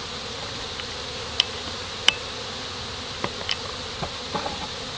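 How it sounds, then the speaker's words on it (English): A steady, dense hum of many honeybees buzzing around a hive entrance after rain, with occasional individual bees zipping close past in brief louder swells. "a very large amount of bees hovering around the entrance to the hive"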